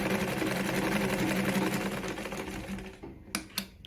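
A Victoria Deltmod model 235 sewing machine stitching at high speed, making a dense, steady mechanical whir up close that slows and stops near the end, followed by a couple of sharp clicks.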